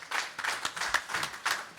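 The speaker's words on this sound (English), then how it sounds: "So a big applause for Robert Easter" Applause from a press conference audience after a championship boxing bout, a brief, moderately quiet patter of clapping with uneven bursts and no talk over it.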